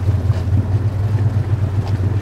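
A 2022 Pioneer off-road vehicle, just out of deep water, makes a low rumbling, burbling drone with water trapped in its snorkel, a steady pulsing engine-like hum close to the microphone.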